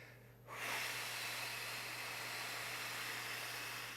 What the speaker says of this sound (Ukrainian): Ще один раз глибокий вдих через ніс. І видих.